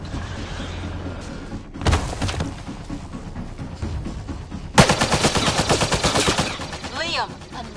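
Rapid bursts of automatic gunfire in the video game Mass Effect Andromeda, one short volley followed by a longer, loud sustained stream of shots, with faint voices beneath.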